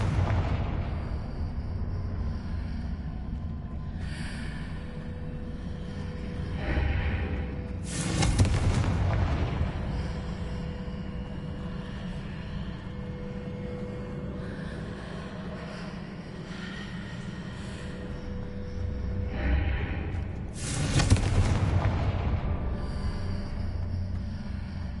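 Confringo explosive spell blasts in Hogwarts Legacy, a video game: two heavy booming bursts several seconds apart rise out of a constant low rumbling ambience, loud and near, with no talk.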